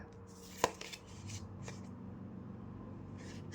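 Tarot cards give one sharp snap as they are drawn or flipped, then a few lighter slides and soft rustles follow, faint and close, in a quiet room.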